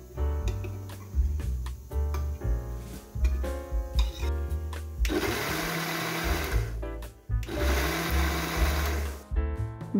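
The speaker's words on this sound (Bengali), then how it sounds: "ব্লেন্ডারে and we have to blend it." A kitchen blender grinds a thick paneer masala paste in loud, sustained bursts, running briefly, pausing, then whirring again in two long pulses with a short break between.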